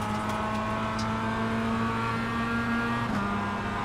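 A race car in a racing video game at Oschersleben, its engine droning at a steady high pitch, then a quick gear change near the end, loud and continuous with no voices.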